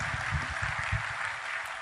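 Brief burst of audience applause for performers on stage at a classic Hindi film music concert, a dense, even wash of clapping with a low rumble underneath, lasting under two seconds.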